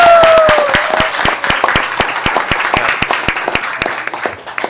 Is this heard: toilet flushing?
no